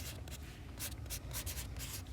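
Pen or pencil writing a decimal number on paper during a math lesson, a steady run of close scratchy strokes with short pauses between them and no talk.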